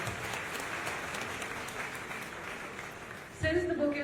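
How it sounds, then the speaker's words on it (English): Audience applause at a book milestone event celebrating Dr Sujay Kantawala's bestselling crime thriller The Verdict: a steady, dense wash of clapping that carries on for over three seconds before a voice starts talking over its tail. "So we give a round of applause for that."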